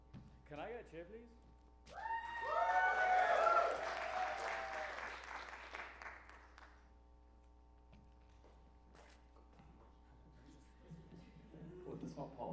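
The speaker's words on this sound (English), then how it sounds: "give him a big round of applause" A theatre audience at a comedy show claps and cheers for a comedian, swelling loudly for a few seconds and then fading out, with a voice speaking over the tail and later.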